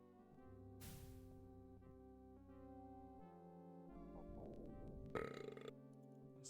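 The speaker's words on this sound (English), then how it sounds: "This little burp from the octopus." A short cartoonish burp from an octopus in the adventure game Indiana Jones and the Fate of Atlantis, heard briefly amid quiet sustained game music and a few other soft effects.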